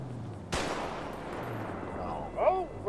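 Gunfire in GTA 5 roleplay: one sharp loud shot bursts out and decays into a long echoing tail, with excited voices rising near the end.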